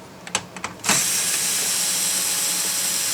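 Ratchet wrench on an extension loosening 7mm bolts behind a car dash panel: a few quick clicks of the pawl, then a steady, loud whirring ratchet run close by.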